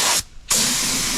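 A spray gun lays a flake coat of metallic paint onto a camper van frame: a loud, close hiss that cuts out briefly for a moment, then resumes steadily.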